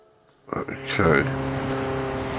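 An old school BMW engine in Gran Turismo 7, starting quiet, then rising to a steady droning hum held in third gear, with a voice talking.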